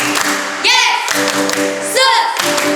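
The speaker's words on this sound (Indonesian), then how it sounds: "Kita tepuk Yesus yuk" Children at a Sunday-school Ascension Day gathering do a rhythmic Jesus clap, sharp claps in a steady pattern mixed with voiced chanting and crowd cheering.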